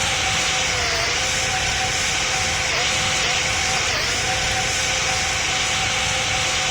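Boeing 777 jet engines in the Roblox-style flight game PTFS roar as a loud, steady, unbroken drone with a faint tonal hum running through it, with no talking.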